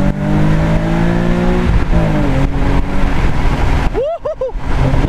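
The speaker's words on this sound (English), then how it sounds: "I just wanted to cruise with it and hear the exhaust." A loud car engine and exhaust roar as it revs and accelerates, pitch climbing through gear changes, ending in a sharp whine.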